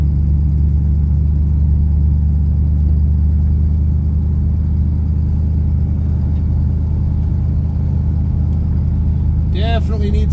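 A 1965 Buick Riviera drives along with a steady, loud low engine rumble and road noise throughout, and a brief squeal near the end.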